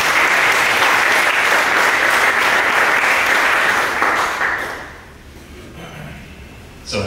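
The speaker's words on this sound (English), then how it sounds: "Can you give him a bit of applause?" Conference audience applauds after a technical talk on booting UEFI-aware operating systems on coreboot: dense, loud clapping for about five seconds, then a quick drop to a quiet room.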